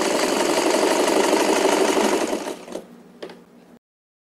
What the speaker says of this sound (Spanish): Cierro, hago presión acá con el dedo y comienzo a coser.